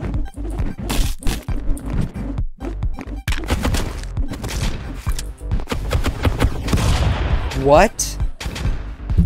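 Video game Stick Fight grenade launcher firing: a dense barrage of sharp blasts and thumps with explosive crunches, loud and continuous, with players talking and exclaiming over it.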